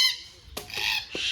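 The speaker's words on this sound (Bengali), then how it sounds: "কাকাতুয়া ডাকতেছে কিন্তু।" A cockatoo at a zoo gives a few harsh, rasping squawks, two short bursts about half a second apart, moderately close and heard alone.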